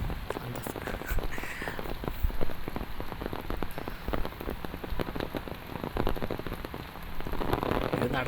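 Light rain patters steadily on an open umbrella during an early-morning walk, a close, continuous drumming of drops with no voices.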